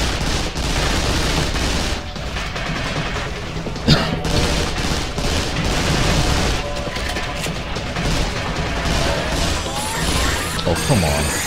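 Gunfire from snipers and other weapons in the video game Vanquish, dense bursts of shots and crashing impacts in a loud, chaotic battle mix, with someone talking over it.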